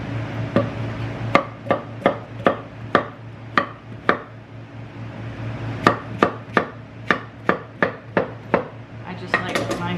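A knife chops produce into chunks for stews and soups, landing in rapid, evenly spaced sharp thunks on a cutting board, close and clear, in two runs separated by a short pause.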